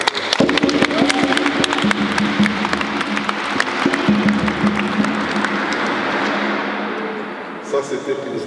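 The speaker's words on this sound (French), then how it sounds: "on vous applaudit" Audience applause at a church assembly, a loud, dense burst of many hands clapping that holds steady and then tapers off toward the end, with some voices mixed in.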